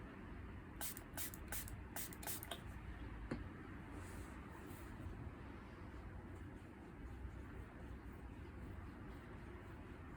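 Several short bursts of water spraying in quick succession near the start, then a single later burst, over a steady low background rumble, during watercolor painting.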